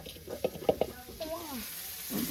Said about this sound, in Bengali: এবার মাছটা রান্না করবো।